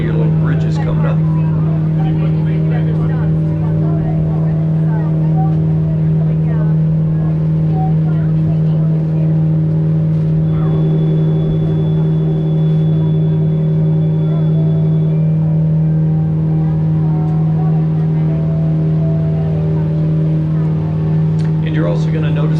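A Disney resort boat on the Sassagoula River hums with a steady low motor drone throughout, close and constant, while a person talks over it.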